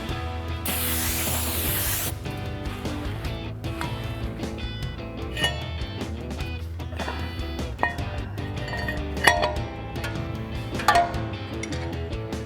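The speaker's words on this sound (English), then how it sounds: "I'm gonna spray down the surface here, wipe it down" A short, sharp burst of brake cleaner sprayed onto a Jeep Wrangler JK brake rotor hisses, followed by clinks, rubbing, and light mechanical rattling nearby.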